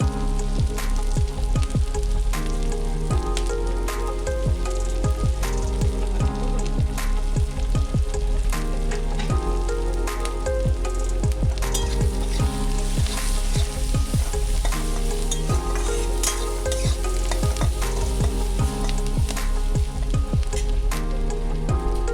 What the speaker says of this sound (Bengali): রসুনটা ভালোভাবে ভাজা হয়ে গেছে।